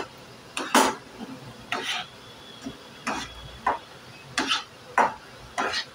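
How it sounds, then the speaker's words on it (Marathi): A spoon scrapes and stirs a thick paneer mawa mixture in a pan, giving a series of short, separate scraping strokes at an uneven rhythm against a quiet kitchen background. "आता हे पुन्हा छान मिक्स करायचं आहे"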